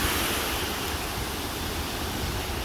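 Gulf surf at Galveston beach, Texas, on a warm July day makes a continuous close roar and wash of breaking waves, steady and loud with no voices.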